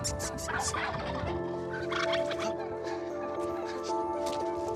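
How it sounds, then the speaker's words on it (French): Turkeys gobble in a rapid, warbling burst, close by and fairly loud, with more gobbles layered underneath and a few yips mixed in. "Le dinde, ça te répond."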